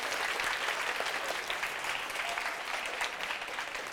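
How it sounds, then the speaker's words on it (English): A crowd applauds steadily at a children's book awards ceremony, dense clapping that holds at an even level throughout without pause. "Give yourselves a round of applause"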